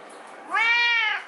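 A pet cat lets out a single clear, drawn-out meow, close and loud, with no talking over it.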